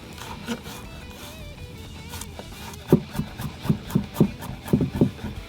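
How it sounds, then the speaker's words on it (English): Garlic cloves being crushed and finely minced with a knife on a board, a soft rubbing press followed by a quick run of sharp rhythmic chopping taps, close up. "with our garlic, we're just gonna crush it first of all. Then we're gonna go ahead and mince it up finely."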